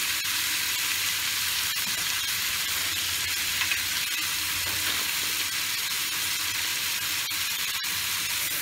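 Pieces of Wallago catfish fry steadily in a pan, a dense, continuous sizzle with bubbling oil crackle running throughout, close and even, with no talking.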